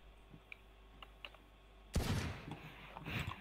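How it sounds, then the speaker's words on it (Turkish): Gunfire in the video game Valorant, a sudden loud burst of shots near the middle that keeps rattling to the end, after a quieter stretch of faint clicks and taps. "Ya silah sesi var işte."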